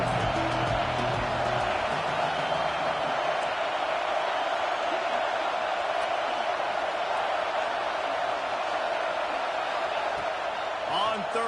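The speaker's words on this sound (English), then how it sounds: "how nice is it to have the home crowd going absolutely bananas" Loud, steady roar of a home crowd at a football game, a dense continuous wall of cheering that holds at full volume throughout without letting up.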